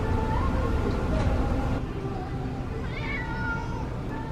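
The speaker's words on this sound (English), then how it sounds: "She's gonna be meowing a lot just because she's not used to this." A scared, unsettled cat meows while being carried along on a day out, its cries mixed into steady background rumble and a busy, noisy setting.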